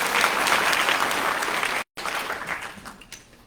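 Audience applause for traditional leaders and a visiting delegation at a genocide remembrance program on Shark Island, Luderitz: dense, steady clapping from a sizable crowd, briefly cut off, then resuming and tapering toward the end.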